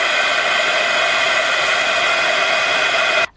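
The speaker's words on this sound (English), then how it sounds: "And then I'll use my heat tool again to dry it." A heat tool blows a steady, loud hot-air roar across a handmade Christmas card being dried after distress stains, holding constant until it cuts off abruptly at the end.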